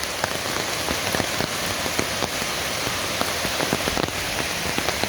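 Steady rain pattering on a hiking trail in the Great Smoky Mountains, a dense continuous hiss with scattered sharper drop hits close by, loud and alone without any voices.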